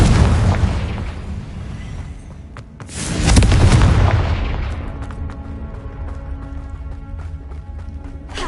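A fiery Confringo curse detonates in the Hogwarts Legacy game, a loud booming explosion swelling midway through over a constant rumbling game backdrop, with scattered lighter pops afterward.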